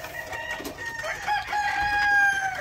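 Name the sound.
rooster crowing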